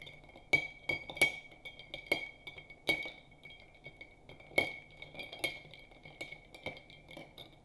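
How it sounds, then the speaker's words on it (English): A cocktail stirred in a glass with a metal spoon, giving a series of sharp, bright clinks at an irregular rhythm, close up and alone, without talk. "But I'm going to stir it."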